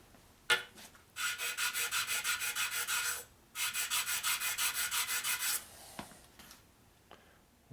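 Hand sanding smooths the surface of a 1957 Harley panhead cylinder head, with two runs of quick rhythmic back-and-forth rubbing strokes, close and fairly quiet, separated by short pauses and ending in a few scattered scrapes.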